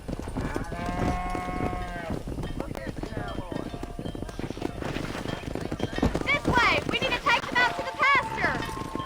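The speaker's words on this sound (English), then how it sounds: "Herd the cows down the road!" Cattle low and moo during a cattle drive in the Red Dead Redemption video game, with clip-clopping horse hooves and game sounds throughout and a voice talking over the herd.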